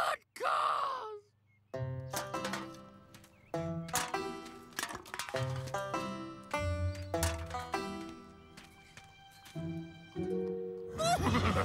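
A horse whinnies and neighs in a series of loud, drawn-out, wavering calls, preceded by a short groan.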